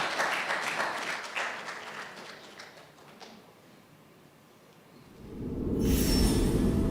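Audience applause at the Ghana Institute of Architects AGM welcoming platinum sponsor Stone Depot, a dense wash of clapping that fades down mid-clip before a louder, fuller burst of noise swells in at the end.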